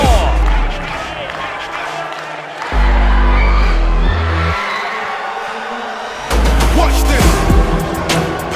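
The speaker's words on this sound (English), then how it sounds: "Listen to the crowd as Lexi Hare makes it four." A crowd roars and cheers loudly in surging waves after a goal at a power soccer match involving the U.S. national team at the 2023 World Cup, with swells rising and falling.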